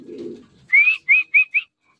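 Racing pigeons arriving back at their loft after a race lap in Santiago, Isabela, give a short series of four or five bright chirping calls close by, preceded by a soft low rustle; no talking.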